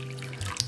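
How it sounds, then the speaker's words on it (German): Hot water from a kettle is poured into a bowl for no-knead bread dough, a brief steady rushing pour heard close and alone. "also 360 Milliliter insgesamt, heißes Wasser."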